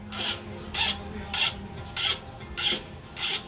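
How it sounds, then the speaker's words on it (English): A hand file rasps across the hardened steel blade of a karambit knife, skating rather than biting, in six evenly spaced bright scraping strokes, close and clear with no talking. "You can hear it just, it's as hard as the file is, so the file's not biting in anymore."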